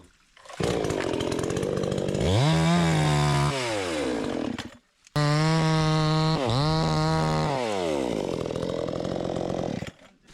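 Vitals Professional BKZ 5 petrol chainsaw running close by, revving up and down through two long bursts separated by a brief pause, loud throughout.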